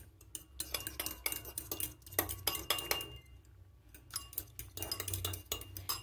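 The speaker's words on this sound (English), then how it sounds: "I'll stir." A spoon stirs vanilla essence into mandazi batter in a bowl, making rapid repeated clinks and taps against the side. The clinks come in close, bright bursts with short pauses between them.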